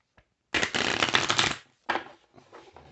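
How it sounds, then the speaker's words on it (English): A deck of tarot cards is given a vigorous shuffle, a close, crisp riffling burst of about a second followed by a shorter second flurry, with no talking. "Let me go on and just give this a very good shuffle here."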